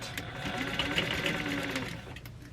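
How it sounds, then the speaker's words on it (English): A sewing machine backstitches over a zipper, its needle running in a steady rapid mechanical whir close by for a couple of seconds before slowing to a stop. "When I feel that zipper, I go ahead and backstitch a couple times over it too, just to make sure to reinforce that."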